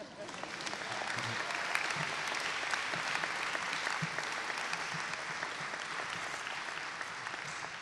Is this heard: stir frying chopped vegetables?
no